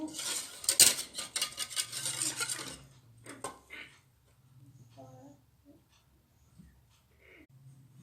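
A spoon stirring a no-bake dessert mixture in a pan over medium heat, with busy metallic scraping and clinks up close for the first few seconds, then quieter occasional taps and faint sounds.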